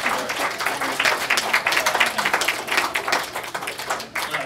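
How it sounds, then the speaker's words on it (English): A crowd claps steadily for a few seconds, a dense burst of applause that stays even before thinning slightly at the end. "please applaud for Sam."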